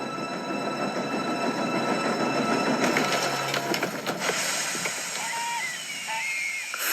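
A Thomas & Friends engine derailing inside a tunnel: a loud continuous rolling rumble with metallic clatter and screeching squeals toward the end, mixed with talk and background music.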